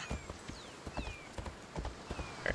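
A horse in Assassin's Creed Odyssey gallops with quick, even clip-clop hoofbeats, closely spaced and fairly loud, with a brief whinny mixed in.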